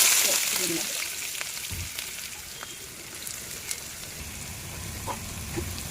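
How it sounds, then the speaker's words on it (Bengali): Chopped onions fry in hot oil for a homemade tarka, giving a steady close crackling sizzle with occasional sharper pops and spatter throughout. "পেঁয়াজ ভাজা হয়ে গেছে, এবার রসুন কুচিগুলো দিয়ে দিলাম।"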